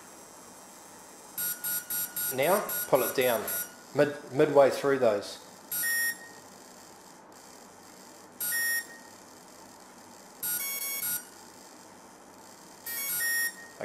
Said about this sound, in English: you'll hear it just going beep beep beep beep beep